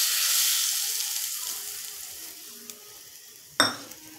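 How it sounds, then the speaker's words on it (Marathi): Hot tempering oil with cumin and asafoetida poured over raw mango chutney, a loud hissing sizzle that fades steadily, followed by a sharp clatter of a utensil near the end. "ही गरम फोडणी आपण या चटणीवर टाकूया."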